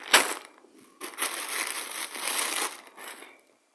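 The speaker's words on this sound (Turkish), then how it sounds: "Buzdolabı poşeti mi?" A plastic refrigerator bag is crinkled and crushed by hand up close, with a sharp first crackle followed by two longer rustling bursts that fade to quiet.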